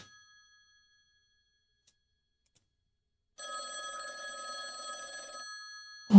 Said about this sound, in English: Are you going to answer it? Who the hell answers a payphone in the middle of nowhere?